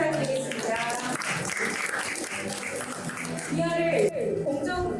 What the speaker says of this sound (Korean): 여러분 다시 한번 큰 박수 부탁드리겠습니다.